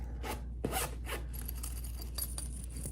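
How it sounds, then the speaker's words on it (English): A small zippered pouch that unfolds into a bag being unzipped, several quick close zipper rasps followed by a longer, softer pull. "And you unzip it"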